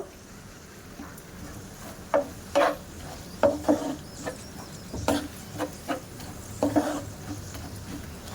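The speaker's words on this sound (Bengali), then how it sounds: "দিয়ে একটু ভালো করে একটু নাড়াচাড়া করে নেব" Coconut powder stirred in a pan while making sabudana laddu: a quiet sequence of scraping, tapping spatula strokes at irregular intervals over a faint low background, close by and with no voices.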